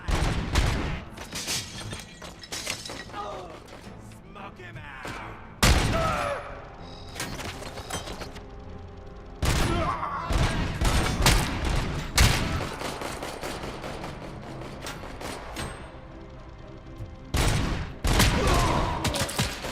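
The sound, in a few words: AK-47 gunfire in the video game RoboCop: Rogue City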